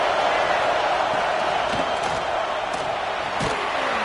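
A football stadium crowd at a Michigan vs Florida game roars steadily and loudly, a dense sustained wall of cheering with a few sharper thuds and shouts rising out of it.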